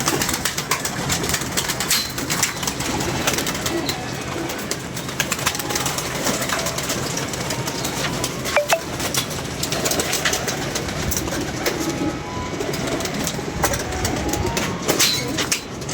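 Pigeons coo steadily over a dense, continuous background of bird noise and occasional wing flaps, at a pigeon keeper's loft where birds are being shown for sale, with no speech.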